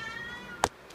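A house cat gives a single short, faint meow near the end, otherwise quiet room tone with no talk.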